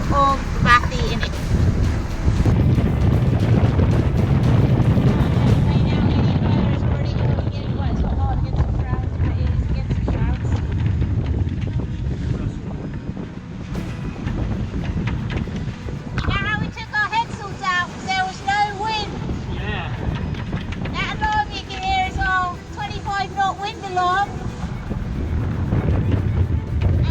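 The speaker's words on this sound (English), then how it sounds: "at the moment it's a crazy sea state and big gusts" Strong wind gusts buffeting a sailboat in a rough, choppy sea, a loud continuous roar of wind and water with the microphone buffeted, and people talking over it partway through.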